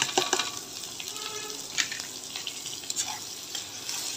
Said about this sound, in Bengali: তো এখন পেঁয়াজ আর দারচিনি এলাচগুলো আমি দিয়ে দিব।